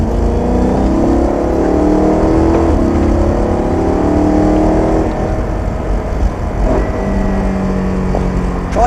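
A BMW race car engine drones steadily and loudly as the driver eases back on the gas, with the pitch shifting through the run and no voices.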